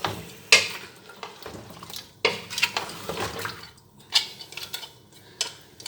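Quail pieces are stir-fried with spices and yogurt in a pan, giving an uneven run of wet sizzling, spoon scrapes and clinks against the pot, loud and close with short bursts.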